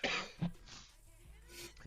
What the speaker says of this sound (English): Sorry, got the coughs.